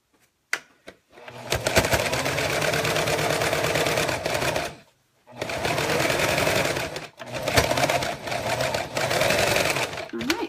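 A sewing machine runs in long bursts of rapid, whirring stitching, stopping briefly between runs, loud and close.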